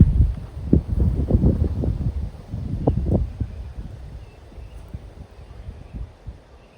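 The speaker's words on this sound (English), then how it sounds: "That wind's died down a little bit here." Wind at an outdoor shooting range buffets the microphone in low rumbling gusts, strongest early and easing toward the end, with no voices.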